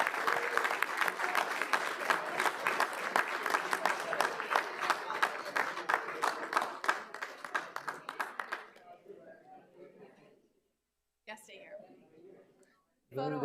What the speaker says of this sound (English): So can we give a round of applause?